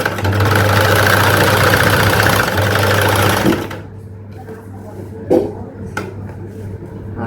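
A sewing machine stitches a feeding zip into a princess-cut blouse, running loud and steady for several seconds, then stopping, followed by quieter handling noises and a few clicks.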